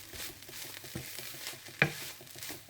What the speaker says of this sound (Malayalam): നല്ലോണം ഒന്നും കൂടി ഇളക്കാം